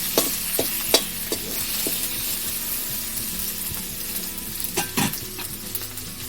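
Bay leaves dropped into hot oil for an Assamese prawn dish, giving a steady close sizzle with a few sharp crackles and stirring clicks, no voices.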